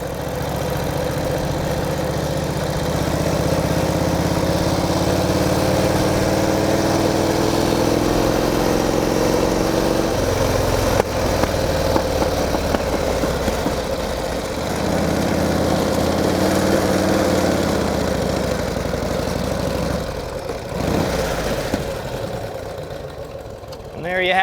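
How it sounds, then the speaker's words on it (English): 1949 Harley-Davidson Jack Pine Enduro Panhead motorcycle with a lightweight sidecar, its engine running loud and steady with a throbbing idle and a few revs throughout, while someone talks over it. "1949 Harley-Davidson Jack Pine Enduro Racer. One awesome piece of work."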